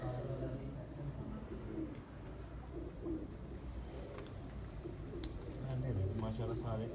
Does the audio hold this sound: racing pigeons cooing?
yes